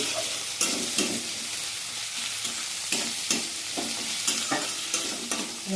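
Spice mix frying in a pan for ridge gourd kofta, with homemade chili powder, a constant bright sizzle under repeated rhythmic spatula scrapes and knocks, close and clear, no talking.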